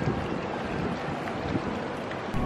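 Wind on a rooftop terrace of a mall overlooking Kuta Beach, a steady broadband rush with low rumbling buffets against the microphone, continuous and fairly loud with no one speaking.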